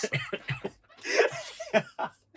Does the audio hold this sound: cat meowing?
no